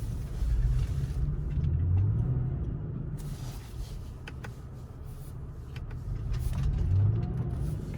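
A stuck vehicle with its rear differential locked revving and straining to drive forward, a loud continuous low engine drone that rises, dips and swells again, with tires spinning but no movement.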